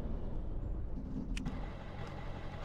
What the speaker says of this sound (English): this truck has a good sound to it